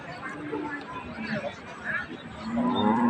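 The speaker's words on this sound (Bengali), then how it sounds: "এখানে একটি ফ্রিজিয়ান জাতের গাভী গরু রয়েছে।" A Friesian cow at a busy village cattle market in Dinajpur lows loudly several times, each moo long and drawn out, over a steady background of crowd chatter and someone talking nearby.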